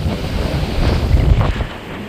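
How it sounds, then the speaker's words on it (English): Strong wind gusts across a microphone on a beach at Padre Island National Seashore, a brief rough roar with low buffeting and faint surf behind it, no voices. "The beach is just a little too windy, as you can tell."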